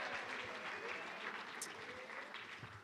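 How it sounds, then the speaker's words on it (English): A round of applause at a fall varsity sports awards ceremony, steady clapping from a crowd heard at moderate volume throughout and fading slightly near the end. "let's get a round of applause going for him here"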